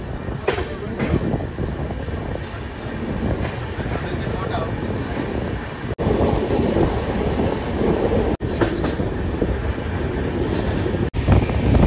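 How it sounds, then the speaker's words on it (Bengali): The Saraighat Express passenger train rumbles steadily on the rails leaving New Farakka Junction, with rhythmic clacking and a constant low roar, voices faintly audible in the background. "আমাদের ট্রেন ছেড়ে দিল নিউ ফারাক্কা জাংশন থেকে"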